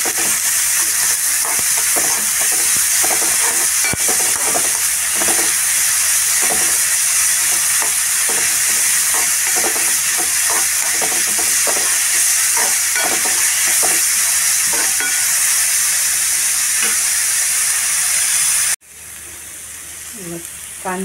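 Onions frying in a pan at home, a steady loud sizzle and hiss running continuously with faint stirring scrapes, then cutting off abruptly near the end.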